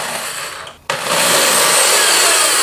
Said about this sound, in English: So I'm going to get drilling right now, get my drill set up, and we'll go to work.